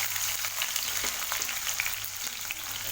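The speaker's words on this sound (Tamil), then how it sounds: "இப்போ இதில் நம்ம கட் பண்ணி வச்சுருக்கிற வெங்காயத்தை இதில் ஆட் பண்ணிடுங்க." Chopped onions hit hot oil in a pan for a Kerala chicken biryani, giving a steady, dense sizzle with occasional faint stirring clicks throughout.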